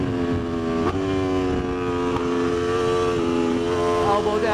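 An Aprilia RSV4 RF superbike accelerating out of a corner on a track, a loud, close, high-pitched engine whine rising steadily with brief dips at gear shifts, continuous throughout.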